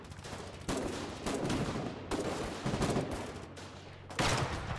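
Gunfire in the war game Foxhole, with repeated loud bursts of shots in an irregular rhythm, some sustained and some clipped, over a low rumbling battlefield background.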